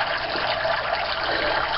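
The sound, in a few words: turtle tank canister filter returning water into the tank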